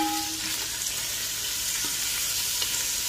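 Chicken fries over high heat for fried rice, a steady close hiss of sizzling oil that holds even and unbroken, with no voices.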